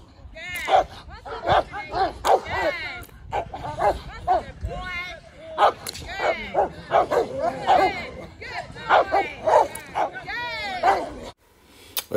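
Several Rottweilers bark in repeated bouts with yips and whimpers mixed in, close and loud, with a person talking over the barking throughout.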